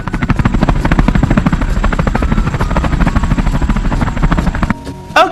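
A toy helicopter flies with a loud, close, steady buzzing whir of rapid rotor beats that cuts off abruptly near the end.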